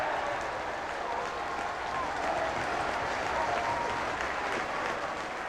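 Football crowd at a Dagenham & Redbridge FA Cup tie applauding a 5-0 win, a dense steady wash of clapping and roar filling the stadium throughout, with no clear talk over it.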